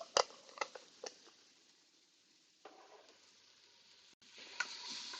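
Garlic frying in the hot oil of an Instant Pot, a soft steady sizzle with a few sharp stirring clicks at the start and end, quiet and close.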